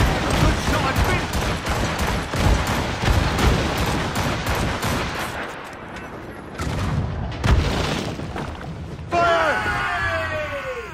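Naval cannons boom in a ship battle in Assassin's Creed Rogue, a dense run of loud, rapid blasts that thins out before a final burst with whistling debris.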